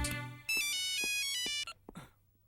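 A mobile phone ringtone plays a bright, melodic electronic phrase, loud and close, for about a second before cutting off abruptly, leaving a few faint clicks and a low steady hum.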